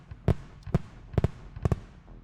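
A stream alert plays a fireworks effect: four or five separate sharp crackling bursts spread across a couple of seconds, each decaying quickly, loud and close with no talk over them.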